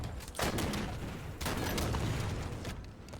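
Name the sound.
gunfire in a video game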